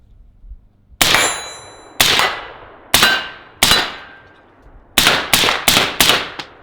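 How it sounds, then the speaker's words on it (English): Suppressed AR-15 firing supersonic 5.56 rounds: eight loud, sharp cracks with ringing tails, two single shots followed by quicker pairs and a rapid closing string, heard close from the shooter's position. "you're getting multiple shots right after another"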